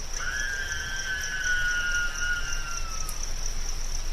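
Crickets chirp at night in a steady, high, unbroken trill, with a long thin whistling tone drifting over it for the first few seconds.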